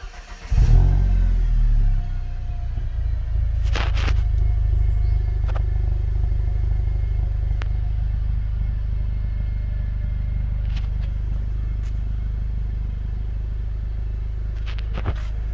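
A Mercedes W212 AMG with a tuned exhaust fires up with a loud cranking burst and flare, then settles into a deep, bassy idle that rumbles steadily close by, with a few faint clicks over it.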